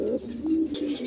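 Soft, low cooing from a pair of pigeons for sale, a continuous throaty murmur close by with no other sound.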